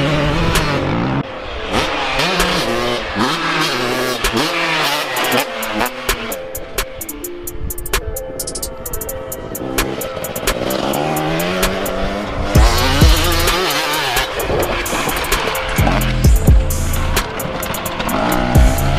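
Motocross dirt bikes roar at the Circuit Verd Moià MX track, loud engines revving and shifting pitch continuously with rising and falling throttle, close and dense throughout.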